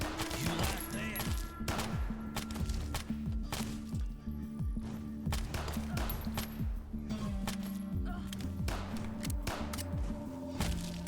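Pistol gunfire in the video game Fallout Nuclear Sunset, rapid repeated shots in quick irregular bursts, loud and close, continuing throughout with faint talk mixed in.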